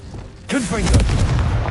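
A Confringo blasting spell goes off in Hogwarts Legacy, a sudden booming burst that lands after a brief quiet and carries on as a dense rumble, with a voice-like sweeping tone riding over it.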